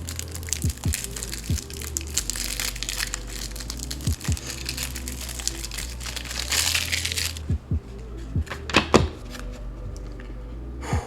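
A Yu-Gi-Oh! trading card pack is torn open up close, with crisp crinkling foil, repeated sharp crackles and rustling as the wrapper is pulled apart and the cards are handled.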